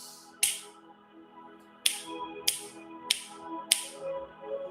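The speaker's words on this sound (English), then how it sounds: "I snap my fingers." Four to five sharp finger snaps ring out at uneven intervals over a quiet, faintly humming room, each crisp and close.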